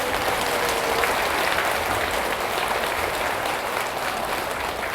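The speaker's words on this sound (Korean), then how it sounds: "서로 축하 박수" An audience at a senior center health lecture applauds together, a dense, steady burst of clapping from many hands lasting throughout.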